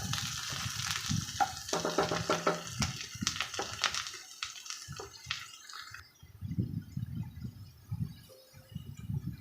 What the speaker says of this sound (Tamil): நல்லா பொன்னிறமாக வர வரைக்கும் நல்லா வறுத்துக்கலாம்,